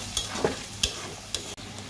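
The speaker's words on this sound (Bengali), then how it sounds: "আমি আবারও পানি দিয়ে এটাকে আরও ভালোভাবে কষিয়ে নেব" Farm chicken masala with tomato, ginger, onion paste and green chili paste is stir-fried in a pan, sizzling steadily while a spatula scrapes and stirs in a few sharp, close strokes.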